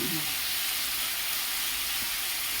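Soya chunks fry with spices in a hot pan, giving a steady, even sizzle and hiss that runs unbroken from start to end.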